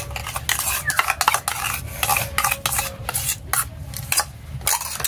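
A whisked mixture is poured into cake batter for a homemade Christmas cake and stirred in a bowl, with busy, continuous scraping and clattering of a spoon against the bowl close up.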